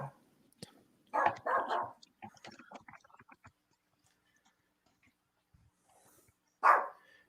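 A dog barks in several short, sharp bursts, a cluster early on and a single bark near the end, fairly close and loud against a quiet background.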